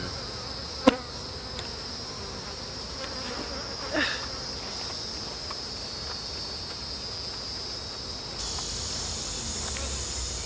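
Honeybees hum steadily around open beehives during a brood inspection for varroa mite treatment, a constant close insect drone with a couple of brief sharp knocks from the hive equipment.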